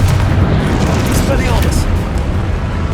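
A Confringo fire spell explodes in the game Hogwarts Legacy, giving loud, dense booming bursts that roll through the whole moment with voices mixed in underneath.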